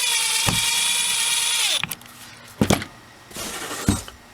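A power screwdriver whirs steadily while loosening panel screws on a Jayco Pinnacle camper, then winds down, followed by a few sharp clicks and clunks of the loosened panel and screws.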